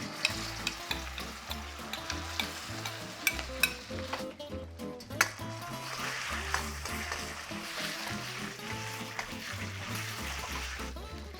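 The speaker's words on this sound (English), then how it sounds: "sear the beef for just 1 to 2 minutes, just until it's cooked through" Marinated beef searing over high heat in a wok for beef chow fun, giving a steady close sizzle and fry with clanks and scrapes of stirring throughout.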